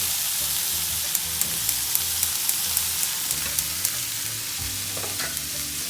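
Chicken pieces fry in an oiled pan for butter chicken, a steady bright sizzle throughout with a series of light, regular clicks of a utensil stirring or turning the meat, close and with no talk.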